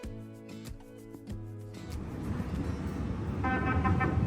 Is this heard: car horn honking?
yes